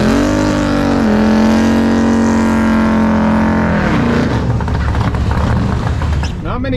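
A full-on Nova drag race car on big Hoosier slicks roars loudly at close range, its engine holding a steady drone before the pitch shifts and breaks into a rough, rising run.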